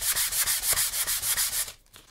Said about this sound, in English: Second verse, just like the first, a whole lot louder, only we're using a different grit of sandpaper